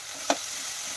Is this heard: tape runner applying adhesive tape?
no